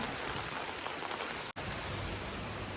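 Heavy rain pours down in a dense, constant hiss, briefly cut by a split-second dropout midway.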